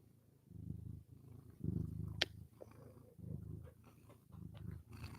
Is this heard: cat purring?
yes